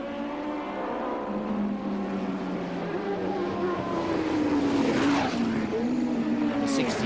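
Racing motorcycles at a 1984 street race, engines droning and shifting pitch as machines pass in sequence, loud and close with rising revs toward the end.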